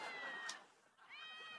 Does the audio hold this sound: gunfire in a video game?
no